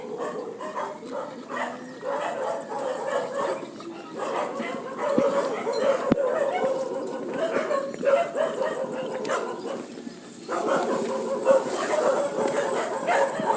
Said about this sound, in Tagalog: Naku, ang daming aso.